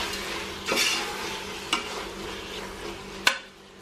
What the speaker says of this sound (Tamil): லைட்டாக கிளறி விட்டுங்க.